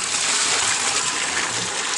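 Spring water in Tula, Hidalgo gushes and flows in a steady, close, hissing rush with no pauses and no voices.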